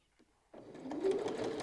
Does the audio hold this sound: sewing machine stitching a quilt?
yes